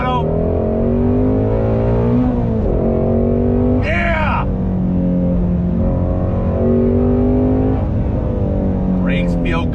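A Shelby GT350R engine is loud and close as it climbs and falls through the revs under throttle in repeated sweeping pulls, with someone talking over it.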